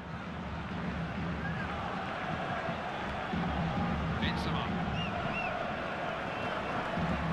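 Stadium crowd roars and urges the French side forward during a FIFA 14 match between Romania and France, a steady dense wall of crowd noise throughout, with a commentator's voice briefly over it.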